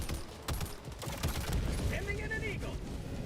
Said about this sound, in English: Got the strafing run coming in.